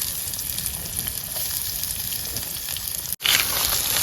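Onion fries in hot oil in a pan at a riverside camping spot, a dense, steady sizzle close to the pan that cuts out briefly near the end before resuming.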